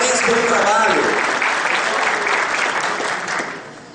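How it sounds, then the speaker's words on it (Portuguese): A seminar audience in Fortaleza, Ceará claps loudly and continuously, a dense wash of applause with a voice briefly over it at first, then fading toward the end. "uma forte salva de palmas"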